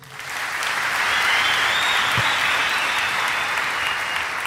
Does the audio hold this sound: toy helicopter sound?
no